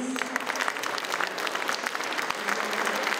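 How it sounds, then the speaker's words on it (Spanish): An audience at a panel on Indigenous peoples in big cities claps for a panelist, a brief even burst of many hands heard up close. "Un aplauso para Leticia Solís."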